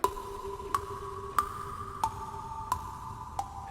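A Wishing Well synth sample for a Zelda rescoring sounds a series of soft bell-like tones, six evenly spaced chimes with gentle attacks, each trailing into a long, heavy reverb tail at a quiet level.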